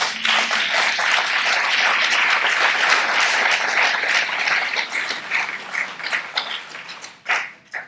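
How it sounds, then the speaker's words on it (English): A lecture audience breaks into loud, sustained applause, dense clapping that holds steady for several seconds before thinning out into scattered claps and fading. "We can clap on that."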